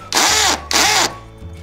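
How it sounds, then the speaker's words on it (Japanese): A power drill bores a small pilot hole as a marker through wood over concrete, ahead of 4 mm concrete screws: two short, loud whirring bursts separated by a brief pause. "こんな感じでとりあえず1回、小さい下穴を目印として開けておきます。"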